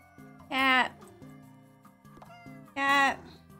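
Two bright cat meows from the video game Minami Lane, each about a third of a second, separated by soft game music with light chimes, close and clear.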